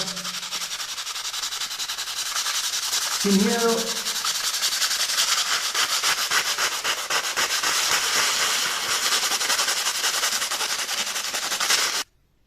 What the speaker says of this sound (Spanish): Entonces comenzás a lijar